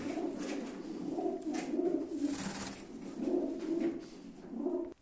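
Several pigeons coo steadily at a live pigeon auction, repeated throaty rolling calls close by in overlapping waves with no talk.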